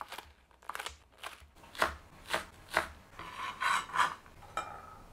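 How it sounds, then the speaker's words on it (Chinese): A kitchen knife chops home-grown green onions on a board in a series of sharp, separate strokes, some quick and light, others heavier and more spaced, heard close and alone. "我们来切一下家里种的这个葱"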